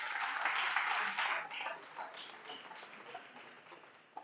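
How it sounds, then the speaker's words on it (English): A crowd claps in a burst of applause at a Web3 expo talk, starting loud and gradually thinning out, heard from a distance in a large room. "give yourself a round of applause"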